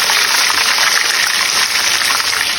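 Fish sizzles hard in a hot frying pan, a loud, steady hissing crackle that fills the space close by without pause.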